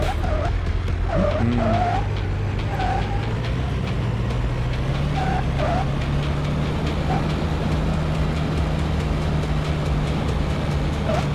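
Tires squeal in short, wavering bursts over a steady engine drone in a video driving game, several skids in a row, then a long stretch of engine and road noise.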